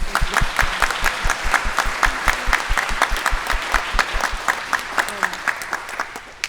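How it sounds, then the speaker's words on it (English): Audience applause at a Grade 3 winter music sharing at a school, an even, steady clapping from a room of listeners with a few louder claps standing out, tapering slightly toward the end. "Can we give them a clap too, actually?"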